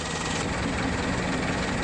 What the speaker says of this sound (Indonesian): Mesinnya masih getar ya, berasa kalau duduk di kabin itu berasa